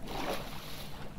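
A boat gliding over water in Minecraft, a soft rushing splash and wash, steady and brief, with no talk.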